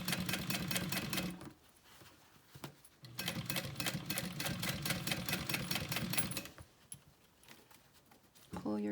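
A sewing machine stitches a small backpack seam in bursts of rapid, even ticking, stopping and restarting several times, with a voice talking faintly over it.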